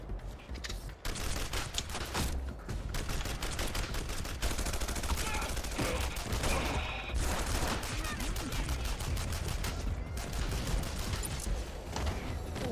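Heavy gunfire in the video game Red Faction: dense, continuous rapid shots and bursts fill the whole stretch, loud and unbroken, with a busy game soundscape beneath.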